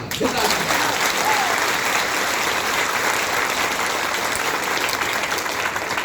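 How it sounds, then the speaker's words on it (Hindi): An audience applauds its organisation, steady clapping filling the hall for several seconds, loud and continuous with a faint voice briefly at the start. "अपनी संस्था के लिए दिल से ताली बजाइए"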